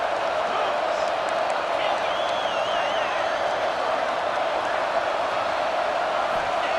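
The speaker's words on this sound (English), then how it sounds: "here comes the crowd noise" A steady, dense crowd roar with cheering swells, continuous throughout and slightly distant, like a stadium audience, in the football video game EA Sports College Football 26.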